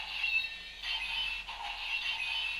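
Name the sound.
Kamen Rider Wizard DX AxCalibur toy sword-mode sound effects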